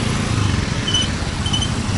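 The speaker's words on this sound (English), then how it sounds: "Lots of motorbikes here." Motorbike engines fill a busy street in Chiang Mai's old city area, a steady close-up mix of idling and passing two-stroke-style buzz with low rumble, continuous over the whole stretch and without talk.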